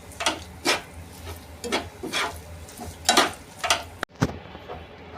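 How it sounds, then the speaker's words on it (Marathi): Sesame seeds for til vadi are stirred in a pan, giving repeated rhythmic scraping strokes about twice a second, close and fairly loud, ending in a sharp knock and then silence. "हे आपण जे तीळ घेतले होते ते यामध्ये टाकून घ्यायचे आहे आणि मला छान असं ढवळायचं आहे"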